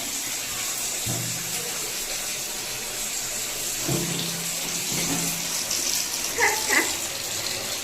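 Water poured and splashing during a baby's bath indoors, a continuous close gushing wash with a few louder splashes, with soft voices faintly underneath.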